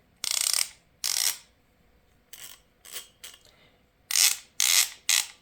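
Clicking of a Hazet 1/2-inch ratchet with a fine 90-tooth gear mechanism, heard as seven crisp bursts of ratcheting, some longer and some brief, close up and alone with no talk.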